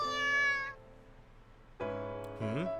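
A kitten meowing in a visual novel video game, three clear high meows, a longer first one, a pause, then two quick calls, the last bending upward, with no talk.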